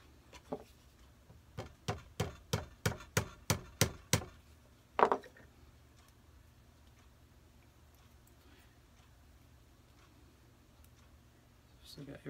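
A hammer taps a silverware olive fork on an anvil in a workshop, about a dozen evenly spaced sharp metallic strikes followed by one heavier blow, then quiet with faint room noise.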